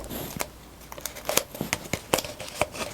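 Adhesive tape is pulled and pressed onto a cup, giving a run of close, crisp crinkling and sticky tearing crackles in irregular bursts, fairly quiet and with no talking.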